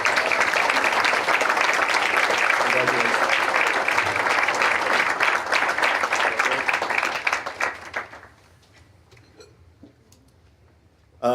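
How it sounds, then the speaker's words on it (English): Broad, sustained applause from a large conference audience at an awards ceremony, steady and dense for about eight seconds before tapering off into near silence. "let's honor them with our applause."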